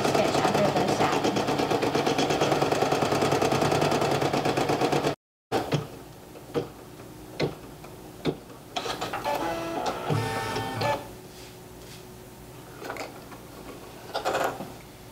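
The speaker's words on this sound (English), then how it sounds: "It will go around this design and stitch down the underlay, which is the underlying stitch under the satin." A single-needle embroidery machine stitches underlay around a two-fabric applique design with a fast, dense mechanical chatter for about five seconds. Quieter intermittent clicks and taps follow.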